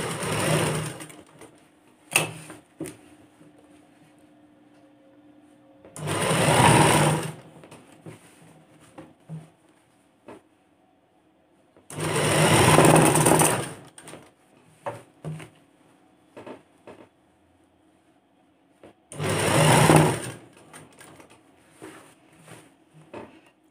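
A sewing machine stitches a collar onto a young girl's tail-cut top, running in four loud bursts of a few seconds each with quiet pauses and small handling clicks between them.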